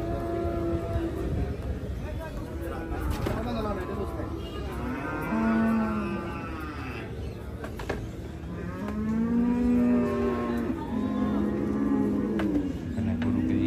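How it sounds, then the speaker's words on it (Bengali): Sahiwal cattle lowing at a busy Bangladeshi livestock market as animals are unloaded, with several drawn-out moos, some close and some farther off, over constant crowd chatter and background noise. "প্রচুর পরিমাণ গরু হযরতপুর হাটে প্রবেশ করতেছে।"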